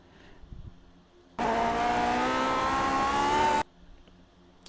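A Lotus 49 race car engine in iRacing at Sonoma holds a steady high-pitched drone for about two seconds, rising slightly as the car short-shifts into third, then cuts off abruptly.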